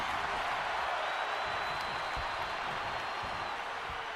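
Crowd in the WWE 2K26 wrestling game during a Clash in Paris match, a broad, steady roar of cheering and clapping that carries on without a break, heard with no talk over it.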